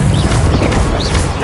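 Spell blast from a Confringo casting in Hogwarts Legacy, a loud, dense burst of noise that fills the whole moment alone, with no talk over it.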